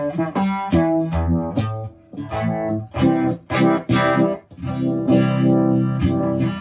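An electric guitar played through a fuzz effects pedal rings out loud and saturated, with chords and sustained distorted notes in short phrases broken by brief pauses, no voices.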